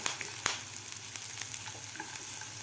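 Raw peanuts and a small chopped carrot frying in a pan, giving a soft, continuous sizzle with a sharp clink near the start and light stirring scrapes, fairly quiet and with no talking.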